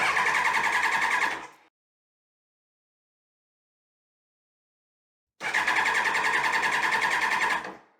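Fuel pump on a Kawasaki ZX12R barn-find motorcycle, unused for 20 years, whirring steadily when the power is switched on, in two loud bursts of about a second and a half and two seconds separated by silence.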